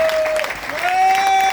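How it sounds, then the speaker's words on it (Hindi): Brief burst of audience clapping at a market-business gathering, loud and close, with a sustained whistling tone or feedback running through it. "एक बार बीसी सर के लिए जोरदार तालियां बजाइए।"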